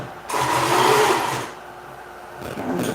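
A sewing machine stitches in a short, close burst of fast whirring, stops, then starts up again briefly at the end, with no speech.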